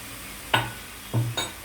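Basmati veg fried rice stirred in a pan: three short scraping stirs with a light sizzle, each a brief close burst over quiet kitchen background.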